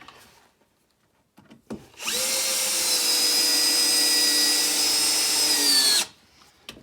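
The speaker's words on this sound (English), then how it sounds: "Pop 2 additional screws in this end, which using a traditional battery driver you would never be able to get to." A Bosch GSR 12V-35FC compact drill driver runs a screw into wood with one steady, high-pitched whir lasting about four seconds, close and loud, bracketed by faint handling clicks.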